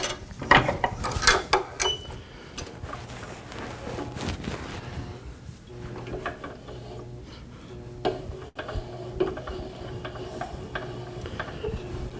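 A VersiFlex press is cranked and tightened by hand. Ratcheting, grinding mechanical clicks and rubbing come in uneven bursts, loudest early on, with a sharp snap near the end.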